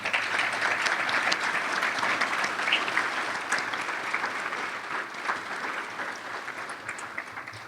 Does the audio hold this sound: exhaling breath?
no